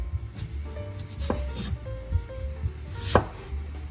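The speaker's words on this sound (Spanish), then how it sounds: "vamos a cortar esta cebolla en cuadritos." A knife dices an onion into small cubes on a cutting board, giving a string of light, irregular taps with a few sharper knocks over a low background hum, close up.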